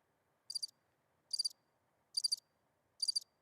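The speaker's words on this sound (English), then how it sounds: "It's stroke season? Crickets." Crickets chirp in four evenly spaced short trilled bursts, bright and clear over near silence, a comedic sound effect with no voices.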